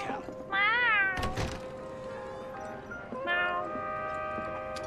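In the Final Fantasy VII Remake video game, a cat gives several clear, close meows: a drawn-out wavering call, then a pause and another meow, with a couple of soft thumps in between and light background ambience.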